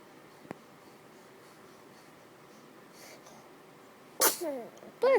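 A baby's sneeze, a short sharp burst followed by a quick second sneeze, close and clear against a quiet room.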